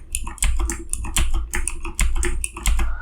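Computer keyboard keys pressed in rapid succession, close and crisp clicks tapping in quick irregular bursts with brief pauses, alone without talk.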